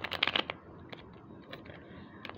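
A quick riffle of shuffled cards at the start, then softer flicks and slides of cards, with a final snap at the end.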